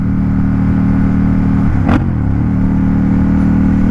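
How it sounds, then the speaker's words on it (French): A small motor scooter engine idles loudly, then gets a quick rev that surges and drops back to a steady idle. "On lui met un petit coup de gaz au scooter ou quoi?"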